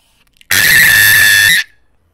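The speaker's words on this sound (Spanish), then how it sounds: "escuchen el grito más agudo que van a escuchar en su vida" A single very high-pitched, piercing scream blasts loud and sustained for about a second, then cuts off abruptly, with silence before and after.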